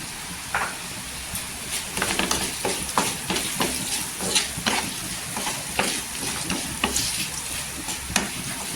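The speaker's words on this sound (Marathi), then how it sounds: "इथे खाली तेलावर परतायचं याच्यानंतर काही करायचं नाही आणि गॅस स्लो करायचा" Green chilies sautéed in hot oil, a continuous close sizzle broken by frequent scraping and clattering strokes of a spatula against the pan, irregular and moderately loud.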